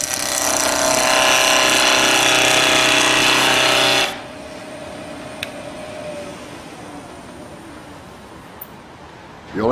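A skew chisel cuts rough on spinning timber on a wood lathe under too much side pressure, a loud, steady, rasping roar for about four seconds, which then stops, leaving the quieter hum of the running lathe.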